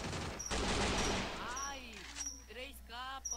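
A rapid burst of gunfire lasts about a second, followed by someone talking excitedly with clicks and game sounds around him.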